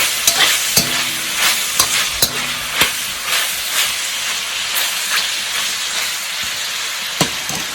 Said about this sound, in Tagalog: Ilagay yung bawang para pangpabango niya.